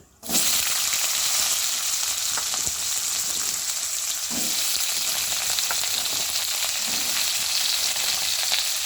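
Pumpkin greens and vegetables sizzle loudly in hot oil with five-spice tempering and chillies, a continuous hiss broken by occasional scraping strokes of stirring in the pan.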